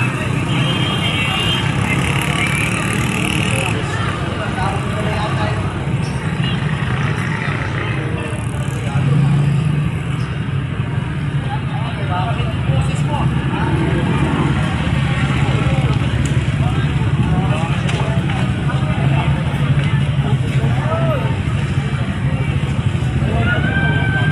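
Road traffic passing during the Alay Lakad walk: a continuous low rumble of car and motorcycle engines, fairly close and steady, with indistinct voices in the background.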